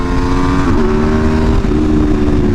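Aprilia RSV4 sport motorcycle with a Spark titanium full exhaust, ridden on a twisty road: a loud, close, steady engine roar whose pitch dips and climbs through gear changes.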